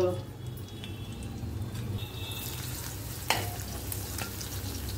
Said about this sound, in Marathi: त्याला तुपावर करायचं फोडणी देऊन, लसूण हिंग